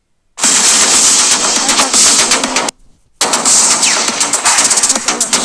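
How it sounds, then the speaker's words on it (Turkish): A minigun fires in Melon Playground as loud, rapid, continuous bursts, breaks off briefly after about two seconds, then starts again. "Bu minigun çok daha fazla ya hasar veriyor."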